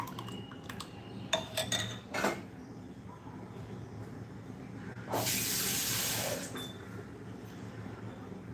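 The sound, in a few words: adding water to dosa batter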